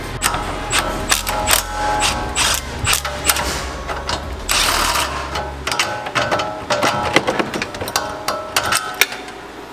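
A ratchet works on the rear axle of a Ford Focus RS in a steady run of close mechanical clicks and clatter over a low background rumble, with scattered metallic knocks.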